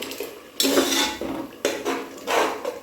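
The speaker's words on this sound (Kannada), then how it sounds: "ಟೊಮೊಟೊ ಪ್ಯೂರಿ ಮಾಡ್ಕೊಂಡಿದ್ದೆ ಅಲ್ವಾ ನೋಡಿ ಅದನ್ನು ಹಾಕೋತಾ ಇದ್ದೀನಿ" Tomato puree going into a pan on medium flame while cooking chicken biryani, with loud metallic clattering and scraping of a utensil against the pan in two or three bursts, close and alone.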